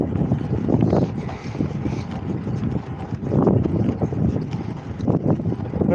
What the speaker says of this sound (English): the wind is hitting me slightly from the right